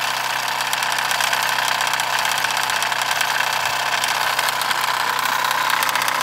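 A Mamod SP4 model steam engine runs on solid fuel tablets, giving a steady, loud mechanical clatter with a continuous hiss throughout, close and without talk.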